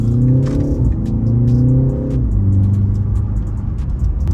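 A BMW in Sport S1 mode drives at partial throttle, around 20 to 30 percent, its engine droning steadily with a clear harmonic hum that shifts pitch as gears change, close and continuous with no speech.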